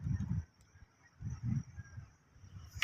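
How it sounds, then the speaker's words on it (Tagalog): A bird calls outdoors on a morning in Astoria, Palawan: three low, honking, goose-like cries about a second apart, fairly close, over a quiet background with a faint steady hiss. "May ibon pa oh."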